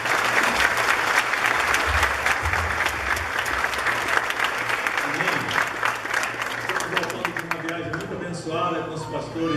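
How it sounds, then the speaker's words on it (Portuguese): A church congregation claps together in sustained, dense applause that fills the room at steady loudness, with some voices underneath and the clapping thinning toward the end. "Vamos dar uma salva de palmas para Jesus."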